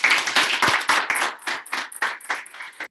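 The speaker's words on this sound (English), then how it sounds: "Give a round of applause." A small group claps steadily for a few seconds, loud and close, the applause thinning slightly toward the end.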